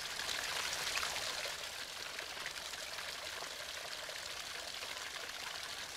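Water from a freshwater spring bubbles and splashes in the frozen Arctic ground, a steady, close rushing trickle with a dense hiss that stays even throughout.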